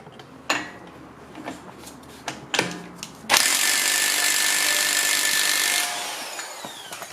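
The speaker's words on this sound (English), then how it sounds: "We're going to start by removing the 36mm wheel spindle nut." A loud electric impact wrench on a Honda Prelude front hub breaks loose the 36mm wheel spindle nut. A few sharp clanks and bursts come first, then one sustained hammering rattle that runs for about two and a half seconds.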